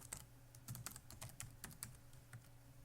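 Crisp, separate clicks of computer keyboard arrow keys tapped at an uneven pace in a quiet room while navigating an Excel spreadsheet, with no voices.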